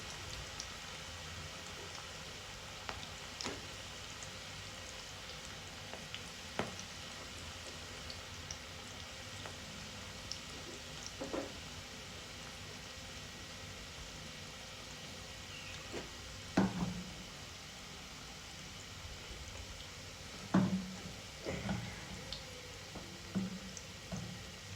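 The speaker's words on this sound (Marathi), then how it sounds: "त्याच्यामुळे कमी आणि मध्यम गॅसवरती हे तळून घ्यायचं आहे।" Green chickpea pakoras, or bhaji, frying in oil over low to medium heat give a faint, steady crackle with scattered small pops and drips, heard alone without any voices.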